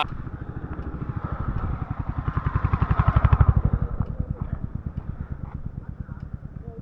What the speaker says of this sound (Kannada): ಅದು ಬೈಕ್ ಬಂತಪ್ಪ